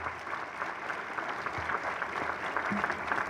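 A graduation ceremony audience gives a round of applause, a moderately distant wash of clapping that stays steady throughout with a few louder claps rising above it.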